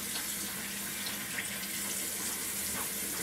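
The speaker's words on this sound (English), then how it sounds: "Try to rinse this bottle off a little bit." Water runs steadily from a faucet into a sink while a bottle is rinsed, a continuous close hiss with faint splashing.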